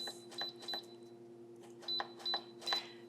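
Electric pressure cooker beeping in a series of short, bright electronic tones as its control buttons are pressed, in two quick clusters separated by a pause, over a steady low hum.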